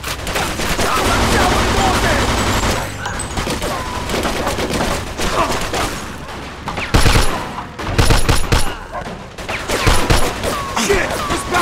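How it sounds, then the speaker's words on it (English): A Mafia II shootout rattles with dense, loud gunfire. Volleys from several guns overlap, then sharper bursts come in the second half amid shouting voices. "More shooting!"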